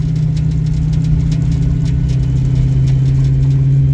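Ford Mustang engine running steadily under load during a driving lesson, a strong low hum holding constant throughout with no clear rev rise, close and loud, no talk.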